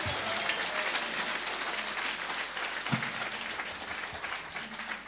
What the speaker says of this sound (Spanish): Fuerte aplauso bolivianas y bolivianos.